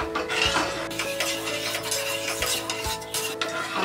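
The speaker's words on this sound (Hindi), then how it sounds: "हम कंटिन्यूअस स्टर करते हुए शुगर को मेल्ट करेंगे" Sugar, ghee and salt are stirred in a pan over the flame until the sugar melts, with close, repeated scraping strokes and light clinks of the spoon over a soft sizzle, and no talking.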